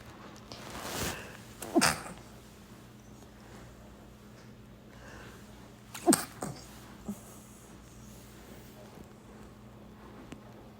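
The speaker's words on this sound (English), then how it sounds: "I just had a little sneeze attack" Two sharp sneezes burst out a few seconds apart over quiet background hiss, each followed by smaller sniffs or snorts.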